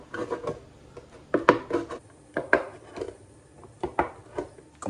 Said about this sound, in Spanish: con la ayuda de esta pinza le vamos a hacer varios agujeros